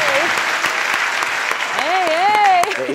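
Audience applause for the musicians at a Turkish music show, a dense steady clapping wash over the whole stretch, with a voice speaking over it midway.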